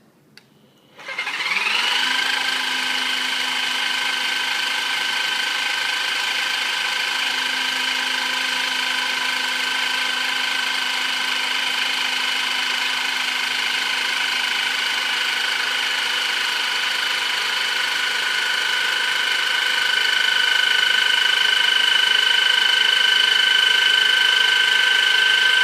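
A Bramley PB2E electric hydraulic pipe bender starts up and bends a pipe. Its motor settles into a steady, loud, droning whine that holds for over twenty seconds and rises slightly near the end.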